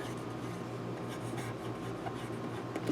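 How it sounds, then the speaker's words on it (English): A pen writes by hand in a journaling Bible, making faint, continuous close scratching in a quiet room. "And I'm just writing what I highlighted"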